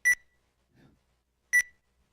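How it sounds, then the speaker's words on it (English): Two short, bright electronic beeps from a quiz competition buzzer sound about one and a half seconds apart, clean and isolated in a quiet room, with a faint murmur between them. "Can you press your buzzer, please?"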